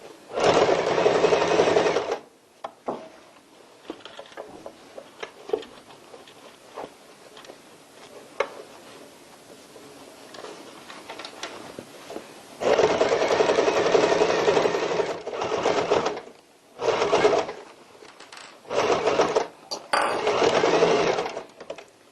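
A sewing machine topstitches a tote bag with fusible interfacing and a zipper in several whirring bursts of rapid stitching. Quieter stretches of fabric handling and light ticking fall between the bursts.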